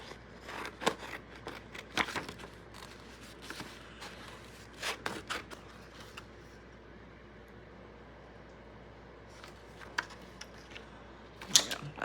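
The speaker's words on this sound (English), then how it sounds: "Now I want to cut this out." Scissors cut an image out of a book page: close, crisp snipping clicks come in short clusters with pauses between them, fairly quiet, and no voice is heard.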